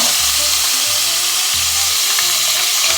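Vegetables and chickpeas fry in a pan, a loud, close, continuous sizzle with low rumbling bursts from stirring recurring roughly every half second.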